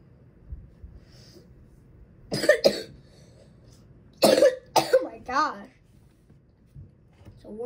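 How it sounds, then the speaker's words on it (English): A person coughs in two harsh bursts, each a pair of quick hacks, and then clears the throat with a shorter rasping sound. The coughs are close and loud against near silence. "It's the worst cough."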